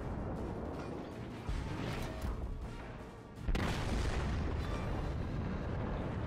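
Secondary guns of the Wyoming battleship firing in World of Warships, a series of booming blasts and rumbling bursts, with one heavy report standing out midway, loud over a continuous low roar.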